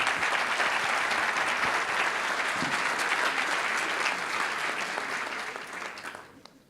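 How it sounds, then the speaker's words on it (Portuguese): Audience applause at the closing conference of an electoral law congress, dense and sustained clapping from a large crowd that holds steady before fading out at the end. "Então, gostaria de dar uma salva de palmas para todas as mulheres."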